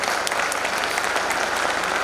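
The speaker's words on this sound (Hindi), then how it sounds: "तालियां मित्रों का तालियां।" Dense, steady applause from a crowd at a Hindi comedy poetry gathering (hasya kavi sammelan) during the Tapti Mahotsav festival, loud and continuous for the whole stretch with no voices on top.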